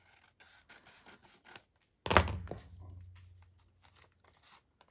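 Scissors trim the edge of a paper craft tag made from a book page, in a quiet room. One sharp cut is followed by a brief rustle of paper, with soft handling sounds before and after.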